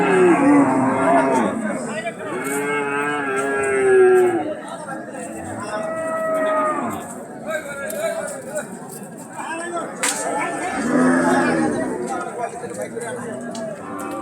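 Large Friesian cross bulls at a cattle market give repeated loud, drawn-out moos, several calls overlapping across the clip against a background of people chattering.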